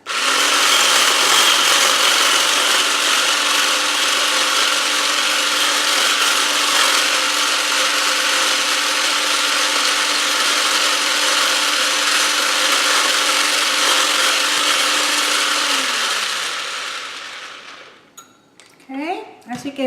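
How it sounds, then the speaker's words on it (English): A hand blender whirs steadily for about seventeen seconds, frothing egg with coconut oil for a keto microwave oat muffin cake, then cuts out, leaving a few faint clinks. "definitely I'm going to use a hand blender for this recipe. And I'm adding my coconut oil, and I'm just going to go ahead and give it a quick froth"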